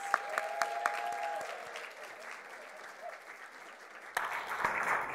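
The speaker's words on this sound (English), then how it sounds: "Please join me in giving them a big round of applause." A graduation crowd applauds the new graduates of an intercultural learning certificate program, a steady wash of clapping with a brief tonal ring early on, a slight dip, and then a louder surge near the end.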